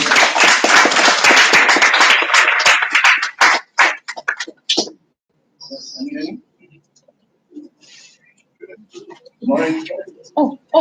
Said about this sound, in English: we all give him a round of applause